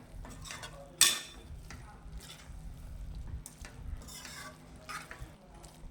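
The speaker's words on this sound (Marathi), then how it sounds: "अशी मिक्स करून घ्यायची छान" Masala Maggi noodles are stirred in a pan, giving soft scraping and sizzling bursts at close range. A sharp utensil clink sounds near the start, then the stirring continues in uneven strokes.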